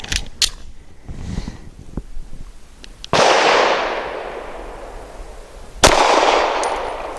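A Girsan MC28SA pistol firing Hornady American Gunner 115 grain jacketed hollow point rounds: two loud, close shots a few seconds apart, each ringing out in a long decaying tail, after a few faint clicks and handling sounds.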